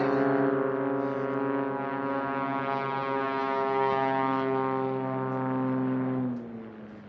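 A STOL drag-racing plane's propeller, driven by a P-Ponk Continental O-470 engine fitted with 520 cylinders, gives a loud, steady, buzzing harmonic drone that holds for about six seconds before easing off at the end.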